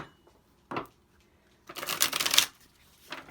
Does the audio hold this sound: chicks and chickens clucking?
no